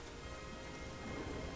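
Heavy rain pours near a volcano in The Isle, a constant dense hiss with low rumbling underneath that suggests thunder, steady and loud throughout with no voices.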